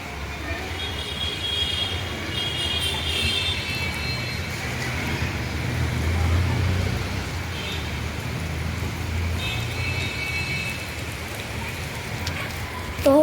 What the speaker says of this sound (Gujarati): વરસાદ તે ચાલુ થઈ ગયો છે